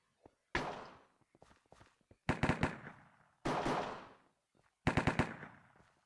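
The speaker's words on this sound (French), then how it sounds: "t'as tiré en rafale" Bursts of rapid automatic gunfire in the video game CS:GO, several loud clustered volleys separated by short pauses, with faint footsteps and small clicks in between and no talking.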